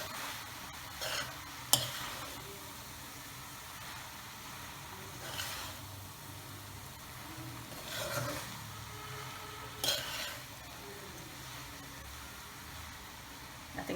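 Spicy noodles and fried rice sautéing in a pan, a low continuous sizzle with occasional stirring scrapes and clanks every few seconds, fairly quiet and close.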